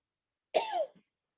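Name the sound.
coughing five times during a yoga kriya cleanse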